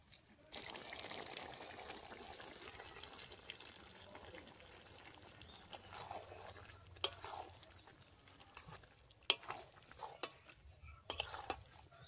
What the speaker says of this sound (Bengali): এবার আমি ভাজা চিংড়িগুলো দিয়ে দিচ্ছি